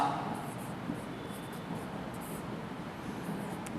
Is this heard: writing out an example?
yes